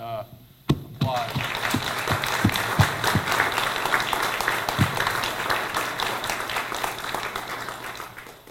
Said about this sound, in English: we'd like to thank you with a heartfelt applause